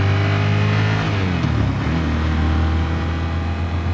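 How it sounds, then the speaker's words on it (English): A motorcycle engine revs loudly and continuously at close range, its pitch climbing then dropping back to a lower steady drone, with no speech. "It has so much juice, this engine"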